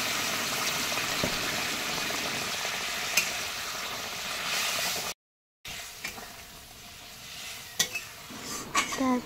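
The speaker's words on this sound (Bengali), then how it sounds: "এবার আমি এখানে গরম জল ঢেলে দিচ্ছি।" Hot water pours into fried spice paste with potatoes in a pan for a mock fish curry, raising a steady broadband sizzle and hiss. A brief silent gap falls midway, then stirring clinks and scrapes return over the bubbling.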